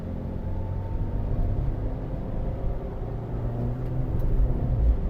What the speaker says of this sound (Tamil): இப்போ தேர்ட் கியர் மாற்றி அப்படியே புஷ் பண்ணலாம்